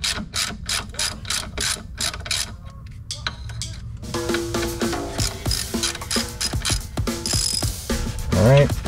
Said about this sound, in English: undo that brake line here